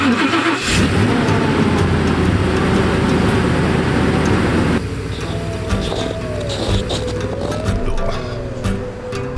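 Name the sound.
frozen truck engine starting and running after a snowstorm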